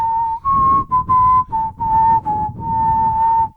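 A person whistles a short melodic tune close up, with several sustained notes separated by brief pauses and no talking.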